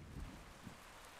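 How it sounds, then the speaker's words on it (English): Steady rain in ARK: The Island Ascended makes a soft, even hiss with low rumbling, faint and unbroken for a short stretch, with no voices. "Still raining, but it's fine."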